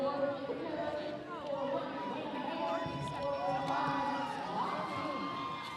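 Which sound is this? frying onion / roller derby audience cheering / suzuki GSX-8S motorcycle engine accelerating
roller derby audience cheering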